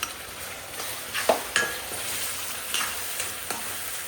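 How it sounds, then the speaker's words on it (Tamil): Prepared masala goes into frying country chicken curry, giving a steady sizzle and hiss with repeated clicks and scrapes of a ladle stirring in the pot, close and fairly loud. "இப்போ நம்ம ரெடி பண்ணி வச்சுருக்கிற மசாலா ஊற்றிக்கலாம்."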